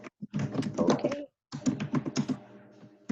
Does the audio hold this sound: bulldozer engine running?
no